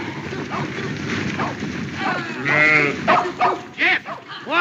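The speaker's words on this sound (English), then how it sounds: "get them sheep moving." Sheep bleat repeatedly, loud and near, as a flock is driven along on a frontier ranch, with overlapping calls rising above a steady background of shuffling and animal noise.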